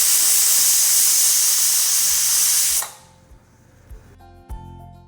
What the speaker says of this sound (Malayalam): ഞാനൊരു മീഡിയം ഫ്ലെയിമിൽ വെച്ചിട്ട് ഒരു 4 വിസിൽ വരുന്നത് വരെയായിട്ട് വേവിച്ചെടുക്കുന്നത്